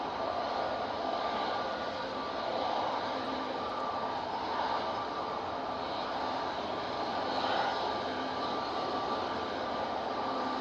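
Canadian C-130 Hercules departing Manchester Airport in stormy weather, a sustained distant propeller-engine drone that swells slightly and fades, steady over the whole stretch without voices.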